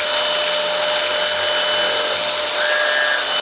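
A Grundig VCP 4330 L 2-in-1 cordless stick vacuum cleaner runs steadily and close, a constant high motor whine with airy rushing noise and no pauses.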